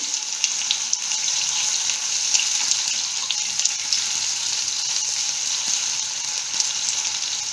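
Potato pieces frying in oil for a Bengali ridge gourd and poppy seed curry, a continuous bright hiss-like sizzle, steady and close at moderate level, without speech.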